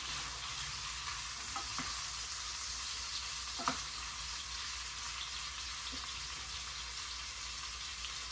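Smoked sausage and noodles frying together in a skillet give a soft, continuous sizzle at low level, with a couple of faint clinks and spits scattered through it.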